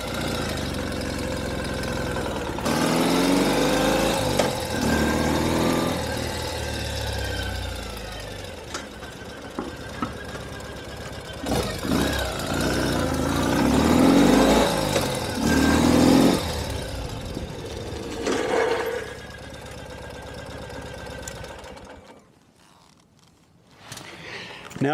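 A Ural sidecar motorcycle, carrying about 40 pounds on its luggage rack, revs its engine as it accelerates and shifts into second gear. The engine sound rises and falls in steady surges and then drops away near the end.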